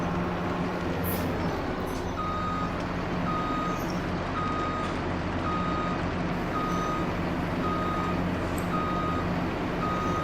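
A truck in Farming Simulator 17 backs up with a steady, evenly spaced reversing beep sounding over a continuous loud engine drone, with no talking.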